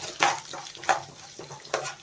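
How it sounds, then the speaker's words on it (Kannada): Chana dal and urad dal fry lightly in oil for mango chitranna, with soft sizzling and three sharp scrapes of a spoon stirring against the pan, close and quiet. "ಈಗ ಇದನ್ನು ಸ್ವಲ್ಪ ಲೈಟಾಗಿ ಹುರ್ಕೊಂಡು"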